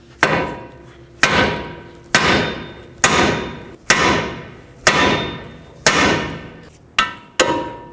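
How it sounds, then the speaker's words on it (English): Nine loud, evenly spaced hammer blows ring out on the metal steering knuckle of a 2007-2009 Saturn Aura, freeing the tie rod stud, each a sharp clank with a brief ringing decay, no talking. "Now take your hammer and hammer on the knuckle."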